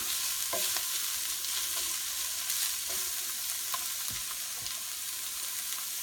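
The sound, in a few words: onion frying in a pan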